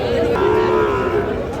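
A Sahiwal bull or calf at the Raniganj cattle market lets out a single long, loud moo close by, with faint crowd chatter behind it.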